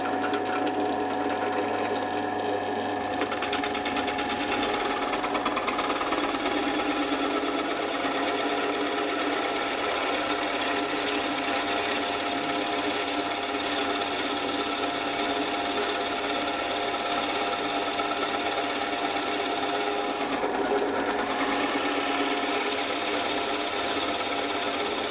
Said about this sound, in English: So now what we do is we drill out all this internal piece.